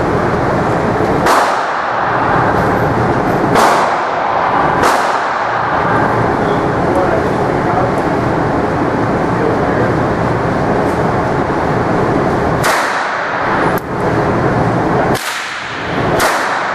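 Walther P22 pistol firing CCI Blazer bulk .22LR rounds, several sharp cracks spaced irregularly, loud and close over steady background noise.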